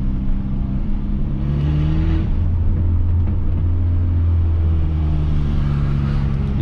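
A Peugeot 206 fitted with a sport air filter and a straight, catalyst-free exhaust revs loudly and close by, its deep, steady engine drone rising and falling in pitch over several seconds, with no talking.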